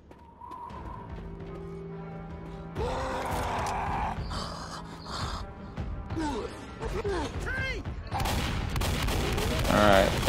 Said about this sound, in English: That was a lot of blows on the tank with my shotgun.